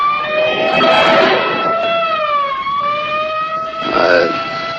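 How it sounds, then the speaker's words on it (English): A loud ambulance siren wails, rising and falling steadily, close and continuous, with a second siren tone joining briefly near the end. "It's an ambulance."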